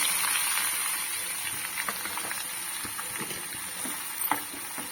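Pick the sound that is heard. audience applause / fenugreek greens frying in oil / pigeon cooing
fenugreek greens frying in oil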